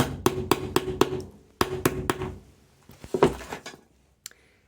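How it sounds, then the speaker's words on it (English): A series of sharp metallic hammer taps on a traditional lead knife cutting stained-glass lead, struck in quick bursts of several blows with brief pauses, close and fairly loud. "if I don't use a hammer, I struggle"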